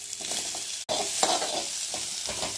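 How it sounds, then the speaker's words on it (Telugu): Coconut roasts with a steady sizzle in a hot pan while a utensil stirs and scrapes, with no talking. "కాయలు వేయించిన వాళ్ళు కొబ్బరి వేయించుకోవాలి"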